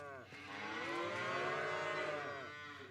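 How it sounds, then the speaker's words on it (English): Video game cattle moo loudly in a long, drawn-out bellow, with a few overlapping low calls, close by and otherwise alone. "Boy, you got some noisy cattle."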